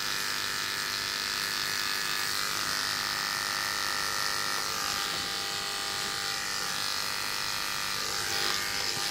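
An electric hair clipper buzzes steadily and close while blending a fade haircut, a continuous high whine that never stops, with no talking.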